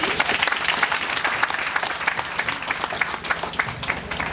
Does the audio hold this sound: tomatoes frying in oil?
no